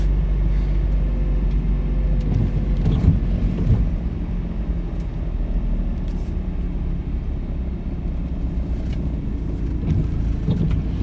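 A big truck drives past outside, a loud, steady low rumble filling the whole stretch with a slight swell in the middle, no talking over it.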